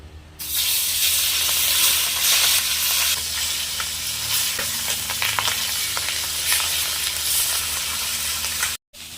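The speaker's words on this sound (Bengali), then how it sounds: "এবার আমি মাছগুলো ভেজে নেব।" Fish frying in mustard oil in a wok over a stove, a loud, steady sizzle lasting the whole time, with faint stirring and scraping sounds, cutting off sharply just before the end.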